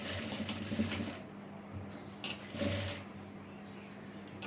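A sewing machine stitches an umbrella frock in short bursts, its mechanical whir starting and stopping with brief pauses and clicks between runs, close by and fairly quiet.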